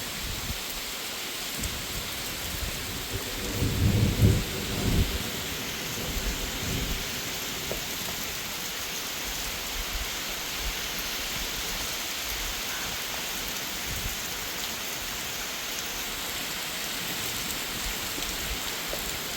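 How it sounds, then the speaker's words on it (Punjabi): Monsoon rain in the Punjab village of Kotla Heran, a steady dense hiss of downpour with a low rumble of thunder rolling near the start, then continuous rain alone. "ਮੀਂਹ ਦਾ ਮਜ਼ਾ ਲੈ ਲਓ ਬਈ"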